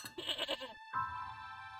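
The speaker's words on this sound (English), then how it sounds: "Yeah, I heard the goat." A goat in a video game lets out two quick bleats, a wavering, nasal cry followed after a short gap by a longer, steadier call, close and clear with no talk.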